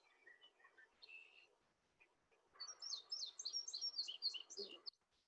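Birdsong at Lincoln Marsh, a woodland and marsh setting: faint chirps at first, then a lively run of high, rapid warbled notes for a couple of seconds, soft and somewhat distant.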